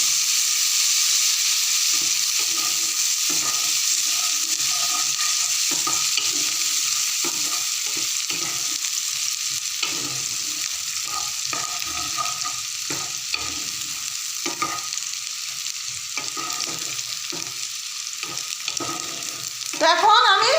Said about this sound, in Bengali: এখন আমি কড়াইতে সরষের তেল অ্যাড করেছি, দিয়ে তারপর তেজপাতা আর পেঁয়াজটা দিয়ে দিলাম।